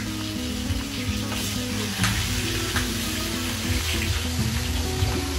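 Chunks of chicken fry in hot oil for turmeric fried chicken, a steady close sizzle and crackle with occasional stirring clinks, no talk.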